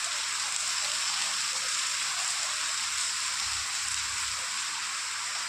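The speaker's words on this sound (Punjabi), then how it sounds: "ਮੀਂਹ ਪੂਰੀ ਸਪੀਡ ਨਾਲ ਆ ਦੇਖੋ" Steady, dense hiss of heavy rain pouring down without a break, loud and continuous throughout.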